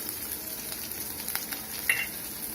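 Green chilies and onion sizzle in hot oil in a pan, a soft, steady frying hiss with faint crackles, fairly quiet and with no voices.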